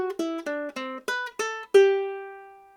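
Kala Metropolitan Curly Mango tenor ukulele strung with a high G, plucked in a clear sequence of seven single notes, the last one left ringing and slowly fading, close and alone.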